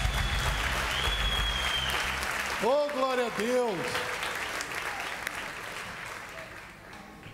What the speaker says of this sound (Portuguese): Pode aplaudir a Deus, irmão.